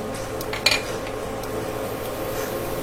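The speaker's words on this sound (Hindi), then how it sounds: "अब हम हमारे पैन में डालेंगे 2 टेबलस्पून घी, आधा टेबलस्पून नमक" Ghee and salt go into a pan with a brief metallic clatter of a spoon against cookware, then a faint steady background hiss, close and without talk.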